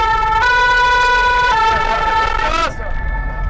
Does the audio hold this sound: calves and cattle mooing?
no